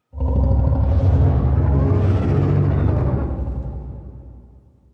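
A game monster roar layered with animal sounds, heard as a loud, deep, rumbling growl that swells at once and slowly fades over several seconds.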